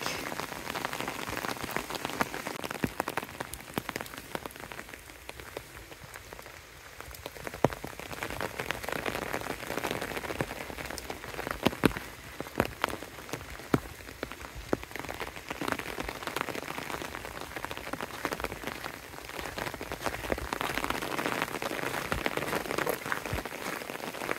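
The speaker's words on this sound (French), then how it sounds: "Désolé pour ceux à qui le son de la pluie donne envie de pipi." Steady rain falls in the Bic nature reserve near a cabin, a dense, continuous patter of drops on surfaces with no voices.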